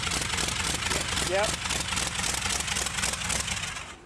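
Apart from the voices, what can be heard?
rat rod engine idling with motorcycle baffles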